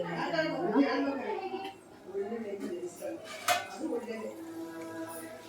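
A spoon stirs and scrapes a pan of spicy raw mango curry (mavinakayi gojju) cooking in oil, with metallic clinks and scrapes running under a woman's speech, close and moderate.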